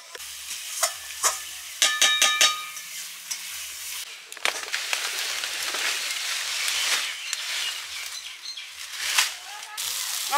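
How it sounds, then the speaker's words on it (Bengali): Spice masala with bay leaves frying and being stirred in a pan for a mutton curry, steady close sizzle with repeated scraping clinks of a spoon against metal. "আমার মশলাটা কষানো হয়ে গেছে"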